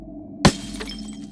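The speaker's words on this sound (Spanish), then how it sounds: "se oyeron más cristales romperse." Car window glass shatters in one sharp, loud crash that fades quickly, with a low hum underneath.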